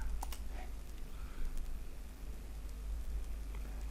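A computer mouse gives a few sharp, close clicks over a low, steady room hum, with no talking.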